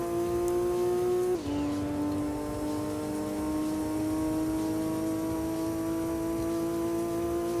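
A Nissan race car engine in Gran Turismo 2 holds a steady high-revving drone at close range. A brief dip around a gear shift breaks it, then the whine climbs slowly and smoothly again.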